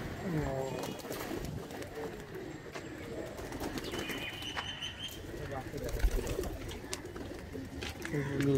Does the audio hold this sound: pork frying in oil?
no